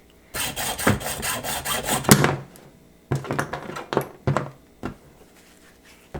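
Hacksaw cutting through a turkey wing bone near its narrow end, close rasping strokes in two bursts separated by a short pause, with a few sharper scrapes at the end.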